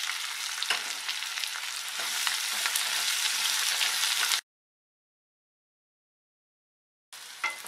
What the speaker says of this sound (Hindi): अब मैं इसमें डालूंगी प्याज और इस प्याज को हमें ब्राउन होने तक भून के तैयार करना है।